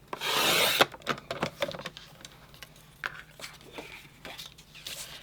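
A paper trimmer slices through paper with a brief, loud scraping rasp at the start, followed by softer rubbing, tapping and handling noises close by.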